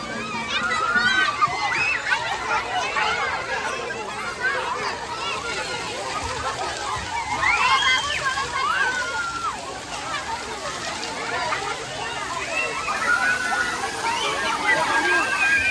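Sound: water splashing in a children's fountain in a park

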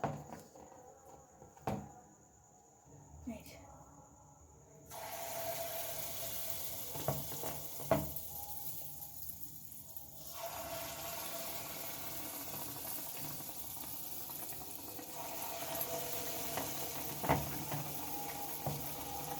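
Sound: mango and rice-flour batter frying in hot oil in a wok

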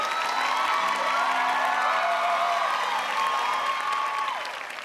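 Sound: studio audience applauding and cheering

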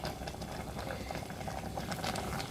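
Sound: bamboo shoot curry boiling in pot

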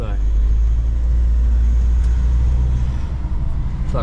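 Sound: Volkswagen Multivan driving

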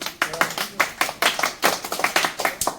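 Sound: children clapping hands

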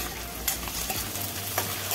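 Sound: onions and tiger prawns being stir-fried

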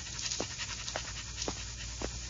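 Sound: dog panting while tracking a scent on leash

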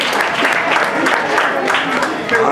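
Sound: wedding guests applauding after a toast

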